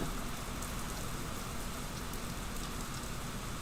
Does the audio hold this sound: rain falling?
yes